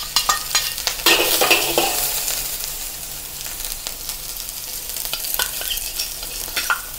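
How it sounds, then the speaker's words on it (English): Spring onion whites stir-fried in a hot wok with chopped ginger and garlic, giving loud, close sizzling with scraping stir strokes that fade to a steady fry. "Stir fry the following ingredients in the wok: the white section of the spring onion,"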